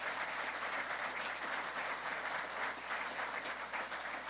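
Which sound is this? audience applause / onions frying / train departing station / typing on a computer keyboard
audience applause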